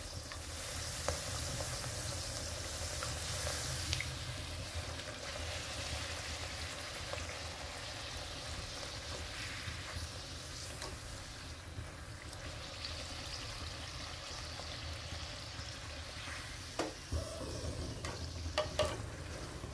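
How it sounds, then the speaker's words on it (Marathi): Tomato puris deep-fry in very hot oil, giving a soft continuous bubbling sizzle at moderate level, with a few small clatters near the end. "तेल आपलं चांगलं कडकडीत गरम झालेलं आहे। आपण आता पुरी सोडू. छान तळून घेऊ, चांगला कलर बदलेपर्यंत."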